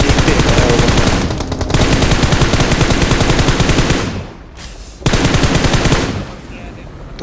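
Automatic weapon fire in the BGMI battle royale game on the Livik map, loud continuous rapid bursts aimed at an enemy, broken by short pauses before another long volley.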